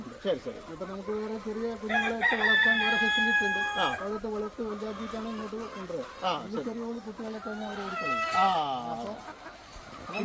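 Egg-laying hens at a high-tech poultry farm cluck and call repeatedly, close and fairly loud, with people talking over them.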